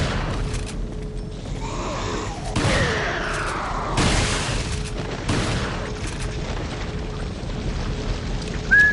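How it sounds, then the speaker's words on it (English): Shotgun blasts from Resident Evil 4 go off as a few loud, separated booms against a busy backdrop of game music and ambience. "Situations like this are why we have shotguns."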